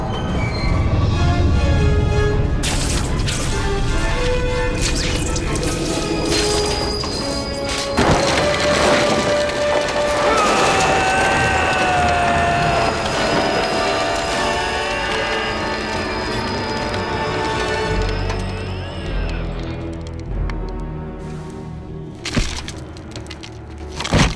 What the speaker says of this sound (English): I've got to stop this train. Everyone on board will be killed.